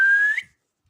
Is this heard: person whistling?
yes